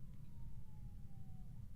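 A faint siren wails steadily in the distance over a low, constant rumble of traffic, with no voices nearby.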